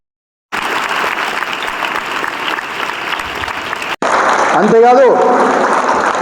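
Students in a classroom or hall break into loud, continuous applause, a thick steady clatter of many hands that cuts off abruptly and resumes, with a voice speaking over the second burst.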